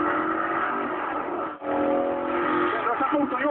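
Engine of a Koenigsegg CCGT race car, naturally aspirated and fitted with restrictors, holds a steady, dense drone with a brief dip midway, then rises slightly toward the end, with a voice apparently talking over it.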